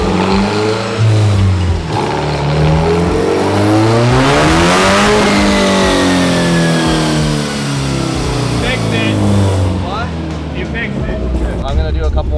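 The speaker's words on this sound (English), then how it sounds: "Just rev it up and check if it drops." Honda Civic converted to rear-wheel drive, engine revving repeatedly with rising and falling pitch sweeps, loud and close, with people talking over it.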